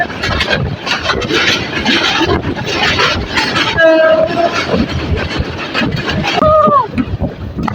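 Crowded passenger train picking up speed near Tejgaon on its approach to Kamalapur station in Dhaka, heard from the roof between two carriages: steady loud rumble and wheel clatter, a horn blast sounding twice, with voices talking over the noise.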